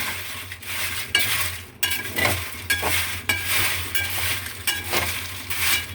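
Jackfruit seeds fry in a pan while a spoon stirs them in repeated scraping strokes against the metal, a rhythmic rasp over a faint sizzle, close and clear with no talking.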